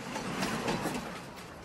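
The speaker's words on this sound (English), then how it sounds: "Train!" A train rolls past in the Farming Simulator 19 video game, a steady broadband rumble with faint clickety-clack that holds for under two seconds and has no talk over it.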